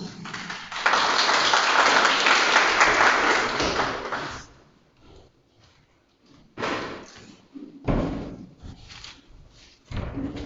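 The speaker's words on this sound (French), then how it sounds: "Donc, nous applaudissons Stéphane Biarri." Applause from a party gathering for the president of a political party's regional launch, a dense burst of clapping for about four seconds that drops off, then scattered thumps and short noises follow.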